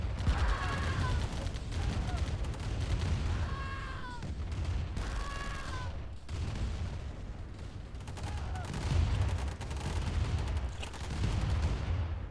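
Sustained minigun fire from light tanks in a multiplayer video game match, continuous rattling bursts with whooshing sweeps, heard beneath steady commentator talk.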